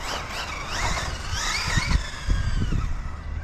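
A Losi 8ight-E electric RC buggy running on a 3S battery, its motor whining and rising in pitch as it accelerates, with tyres squealing and skittering on the surface nearby.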